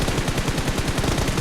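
Rapid automatic gunfire from the video game PUBG rattles in a continuous, loud stream of close shots, with no pauses and no voices.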